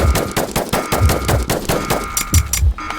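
Rapid, loud bursts of rifle gunfire in a video game, firing in a fast irregular rhythm with repeated sharp shots throughout.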